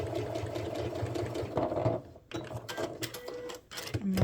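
A sewing machine stitches a seam on a comfy fall/winter sweater in a steady, fast mechanical whir. It pauses briefly in the middle, then runs again in short bursts, close and clear, with no talking.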